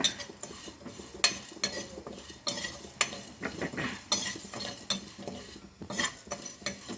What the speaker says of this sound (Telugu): ఇవన్నీ దోరగా వేయించేసుకోవడమే